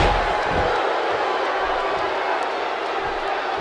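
The crowd in a WWE Mixed Match Challenge wrestling arena gives off a loud, steady roar of cheering that fills the hall. Occasional slams and faint voices sit within the constant noise.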